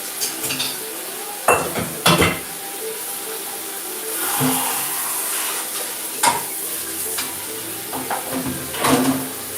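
Pots and pans clatter in a sink under running, hissing water, with a few sharp metallic knocks scattered through the steady wash.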